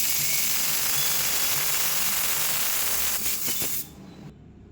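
Pressure cooker whistle while rice cooks, a loud sustained steamy hiss that sputters and then cuts off abruptly near the end.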